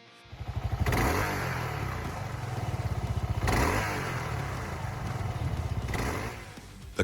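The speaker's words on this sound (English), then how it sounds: "Number 17, Kawasaki KLR650 single cylinder." A Kawasaki KLR650 single-cylinder motorcycle engine, 652 cc and liquid-cooled, revs three times. Each rev rises to a loud, thumping blat and then falls back to a lumpy idle. The sound is close and clear, with no voices.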